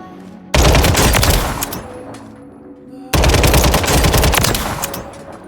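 SMG fire in the video game Warzone 3 comes as two loud, close, sustained automatic bursts of rapid shots, separated by a short pause with lingering echo.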